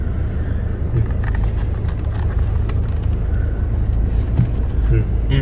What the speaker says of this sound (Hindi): एक और गाड़ी आ गई।